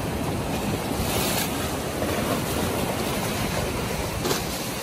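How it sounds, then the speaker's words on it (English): Big ocean waves breaking on Grand Anse beach, a steady loud surf roar with wind buffeting the microphone, no talking. "The Grand Anse is so beautiful. The big waves."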